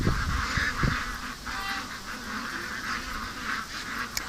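Agitated ducks honk and quack in a yard with nasal, overlapping calls that carry steadily over moderate background noise, with several louder bursts from birds nearby.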